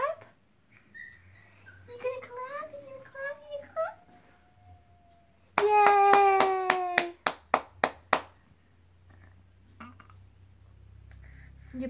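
A small child claps hands in a quick burst of several close, sharp claps during a patty-cake game, after babbling child speech and an adult's voice.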